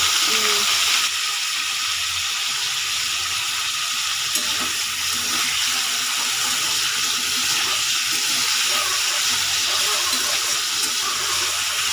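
Frying in a pan while cooking a vegetarian banana flower ghonto. A steady, close hiss of sizzling oil runs without a break, with faint hints of a voice in the background.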